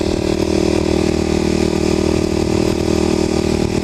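A Kawasaki KLX250sf motorcycle engine drones steadily while riding at moderate speed, loud and close with a constant mid-pitched hum and no other sounds.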